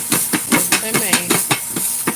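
Hot oil spits and sizzles around wet saltfish frying in a covered pot, a close, loud run of sharp hissing bursts repeating roughly every quarter second.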